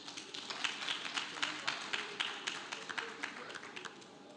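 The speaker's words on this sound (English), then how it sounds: "deserve a round of applause" Scattered applause from the audience at an insurance company's annual general meeting, a steady run of light individual claps, moderately distant and fairly quiet, tapering toward the end.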